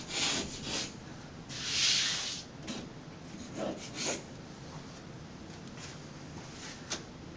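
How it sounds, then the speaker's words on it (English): Sandpaper is rubbed across a wall to smooth it before hanging a peel-and-stick mural, giving soft, repeated scratchy strokes of varying length, fairly quiet and close. "some sandpaper and just make sure the whole wall is nice and smooth"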